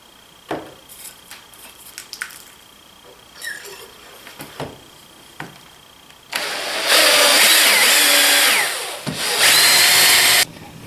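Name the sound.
power drill drilling hole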